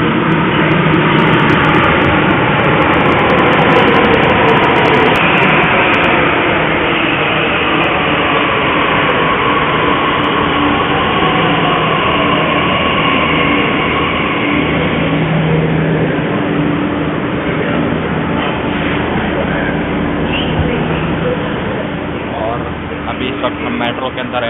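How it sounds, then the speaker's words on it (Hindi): A Delhi Metro Silver Line train rumbles loudly into a station platform with whining, shifting motor tones, while someone talks over the noise throughout. "मैं पहुंच गया हूं प्लेटफॉर्म पे और हमारी मेट्रो सामने आ रही है"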